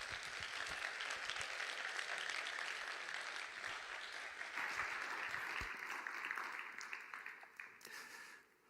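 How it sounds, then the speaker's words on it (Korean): A church congregation applauding, a dense, steady clapping that swells to full volume, holds for several seconds and then tapers off toward the end. "한번 응원의 박수 할까요?"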